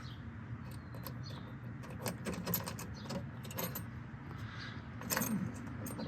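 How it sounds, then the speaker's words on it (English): Keys jangle with sharp metallic clicks and rattles as an ignition lock cylinder is worked loose and pulled from an old car that sat for nearly 20 years, close up and steady, with a louder burst of clinking near the end. "So now we got the lock cylinder out"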